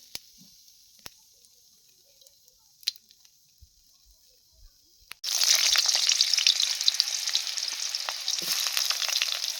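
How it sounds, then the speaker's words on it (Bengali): Bay leaf and whole cumin dropped into hot oil for a catla fish curry: near-quiet with scattered small clicks, then an abrupt loud burst of crackling sizzle that stays dense and steady to the end, no talking. "তেজপাতা ফোড়নে দিয়ে দিলাম, গোটা জিরে দিয়ে দিলাম ফোড়নে"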